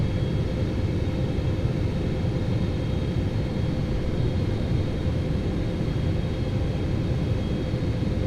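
Engines of a PMDG 777-F freighter airliner in Microsoft Flight Simulator 2024 give a steady, loud, low roar and rumble that holds unchanged throughout, with no talk.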